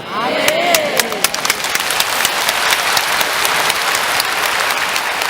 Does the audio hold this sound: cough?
no